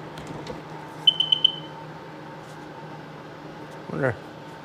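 Three short, evenly spaced high electronic beeps from the tether warning beeper on a Sea-Doo XP DI personal watercraft, close and clear over a low steady hum, with a brief voice sound near the end.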